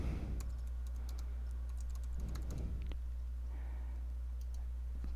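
Keys tapped on a computer keyboard while entering a password at a console login, a run of light clicks near the mic over a steady low hum, with a brief pause midway.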